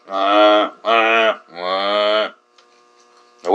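A human voice imitates a cow mooing with three long, loud, drawn-out moos in a row, close and clear, followed by a short quiet gap.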